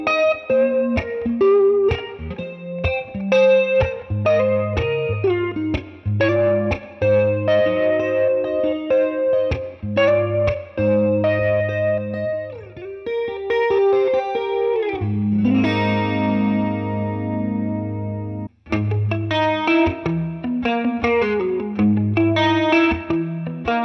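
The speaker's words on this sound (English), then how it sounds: "I added kind of like a chorus effect because I always think Jazzmasters sound really good with modulation" Fender Jazzmaster electric guitar played fingerstyle on the neck pickup through a chorus effect, sounding warm and shimmering as it picks out continuous chords and melodic lines, close and full with no talking.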